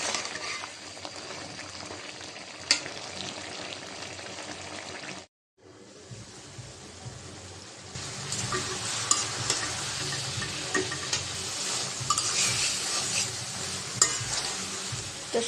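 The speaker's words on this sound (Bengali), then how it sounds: "তো সবজিটা কষানো হয়ে গেছে" Snake gourd, potato and tomato are sautéed in a pan with fried nola fish, with close stirring scrapes over a continuous sizzle, a brief silent break, then louder, busier frying.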